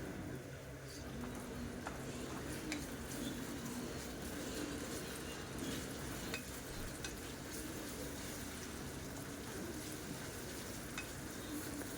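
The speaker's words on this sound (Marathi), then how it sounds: "मी आता या आलं लसणाच्या पेस्टचा कच्चापणा जाईपर्यंत तेलावरती छान असं परतवून घ्यायचं आहे" Ginger-garlic paste sautéing in hot oil with onions for a chicken masala, a steady close sizzle with occasional scrape and stir noises running throughout.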